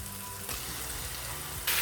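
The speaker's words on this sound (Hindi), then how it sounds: "गोश्त डाल के गोश्त को भी अच्छी तरह से भूनेंगे।" Mutton frying with garlic-ginger paste in a pan, a steady close sizzle and crackle throughout, briefly louder near the end.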